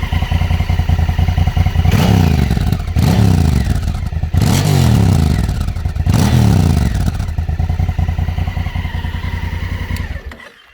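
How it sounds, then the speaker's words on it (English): A 2016 Honda Africa Twin motorcycle with a standard exhaust roars loudly up close, revving repeatedly in rising and falling sweeps with a rough, crackling exhaust note before settling to idle. "Sound of the bike, we'll try and get some exhaust sound for you."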